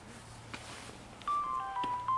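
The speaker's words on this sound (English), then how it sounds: "I just got a text message." A phone's text message alert plays as a few short, clear electronic tones over quiet outdoor background noise, faint at first and then a bit louder.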